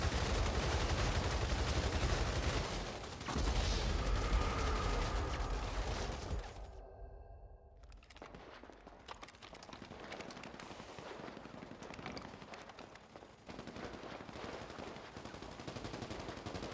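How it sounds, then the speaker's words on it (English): Dense, continuous gunfire in Grand Theft Auto rattles loudly, then briefly cuts out before resuming at a lower, steady level with rapid repeated shots. "the gunfire just gets louder and louder"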